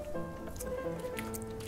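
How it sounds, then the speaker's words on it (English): Thick brownie batter poured into a prepared baking pan makes soft wet squishes and patters, close and quiet, over faint background hum. "And then I'm going to pour it into my prepared pan."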